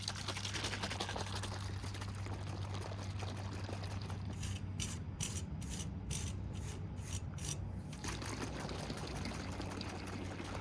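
Cold to lukewarm water pours steadily in a continuous splashing stream, with a brief run of rhythmic gurgling pulses partway through, fairly close and moderately loud.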